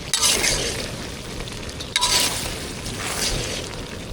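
Chicken masala mixture stirred and frying in a large pan for temple annadhanam cooking, a steady close sizzle with scraping strokes of the ladle, two louder bursts of stirring about two seconds apart.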